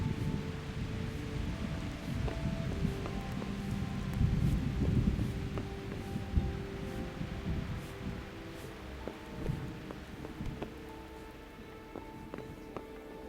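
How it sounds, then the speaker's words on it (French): Steady rain hisses over the ground in a medieval open-world role-playing game, with low rumbling wash and scattered sharp clicks at an even level throughout. "Ah, shit, il pleut"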